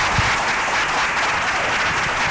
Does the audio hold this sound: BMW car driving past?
no